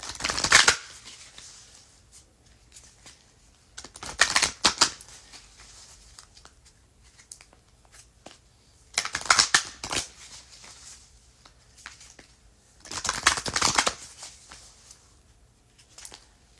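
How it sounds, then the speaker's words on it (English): Keepers of the Light oracle card deck shuffled by hand in four distinct bursts of riffling card noise, each a second or so long with quiet pauses between, close and clear with no talking. "Shuffle this a few times."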